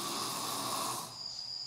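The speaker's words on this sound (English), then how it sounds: "if you hear snoring in the background, that's mommy." A woman snoring loudly somewhere in the room, a steady breathy rasp with a hissy edge that carries on for most of the moment before easing off, with no talking over it.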